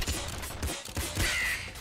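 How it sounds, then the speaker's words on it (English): Harsh crow-like caws sound a few times over a busy game soundscape with thumps and rumbling effects. "Sound of birds."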